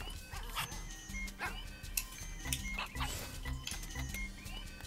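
A dog barks and yips in short bursts in the co-op puzzle game HeartZ: Co-Hope Puzzles, with light clinks and game sounds among quiet, irregular calls.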